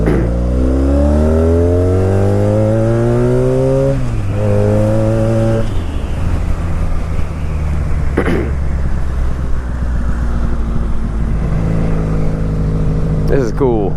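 A Honda Magna Legend motorcycle engine revs up through rising and falling pitch sweeps, loud and close, with steady running between throttle blips.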